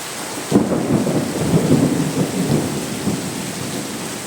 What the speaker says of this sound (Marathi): गडगडाट झालेला आहे.